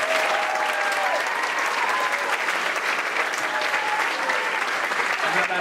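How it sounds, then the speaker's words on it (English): Audience at a school third-grade choral concert applauds loudly and steadily, a dense wash of clapping with a few faint cheers running throughout. "And how about a big round of applause for all of our soloists who are up here tonight?"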